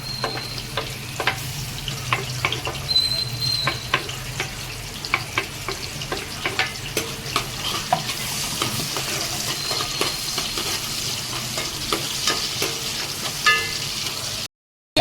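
Chopped onion sizzles in a pan for a quick egg dish, a steady frying crackle broken by frequent sharp clicks of a spoon stirring, close and continuous until it cuts off abruptly.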